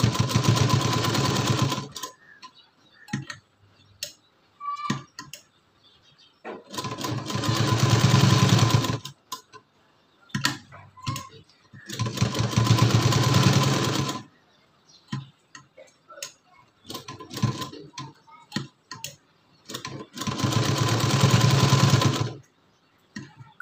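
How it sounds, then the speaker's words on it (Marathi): A sewing machine stitches a blouse sleeve in loud, rapid, mechanical runs of a few seconds each, separated by quieter gaps with small clicks and handling sounds. "या ठिकाणाहून शिलाई मारायला सुरुवात करायची"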